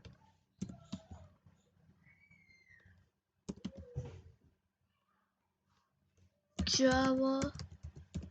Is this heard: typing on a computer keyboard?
yes